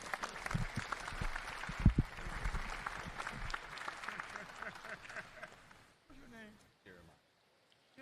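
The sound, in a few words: audience applause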